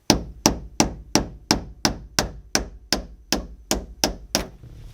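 Twelve sharp metallic taps ring out as a hammer strikes a punch against the tabs of a fuel pump, evenly spaced and close, slowly easing off in force.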